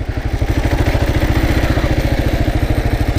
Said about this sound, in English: as you guys can see, I'm just feathering the clutch just a little bit